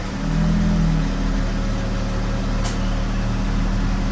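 A 2013 Dodge Charger 3.6 V6 idling roughly in gear after a jump start, close and loud, its low droning note sagging as if about to stall, with a brief sharp click near the end.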